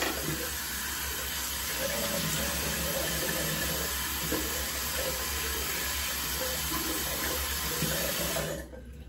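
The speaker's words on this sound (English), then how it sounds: "let's go ahead and rinse off" Water runs steadily from a tap during a rinse after shaving, a loud close continuous hiss and splash that cuts off abruptly near the end, with no speech.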